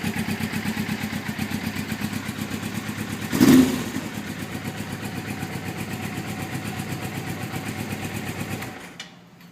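A 2008 Suzuki GS500F motorcycle with an aftermarket Jardine exhaust idles close by in a steady, rhythmic lope, gives one quick throttle blip, then shuts off and falls quiet.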